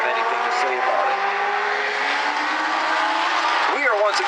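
Legends race cars roar around a short oval track at a regional qualifier, a dense loud pack of engines revving and passing, with tires squealing near the end and an announcer talking over the racing.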